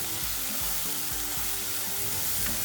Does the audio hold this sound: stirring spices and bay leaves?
yes